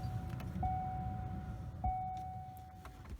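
A car's electronics waking as the key turns to the on position, with steady chime-like electronic tones over a low idle hum, close and fairly quiet.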